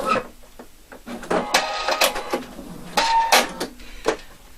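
A sewing machine stitches the seam of a tailored sleeve vent, giving close, rapid bursts of mechanical whirring broken by short pauses as the fabric is guided.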